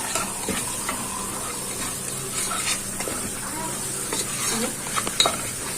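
Sugar being stirred into grilled food in a pan, a steady sizzle with scraping spoon strokes and occasional clinks of metal against the pan, close and continuous with no talking.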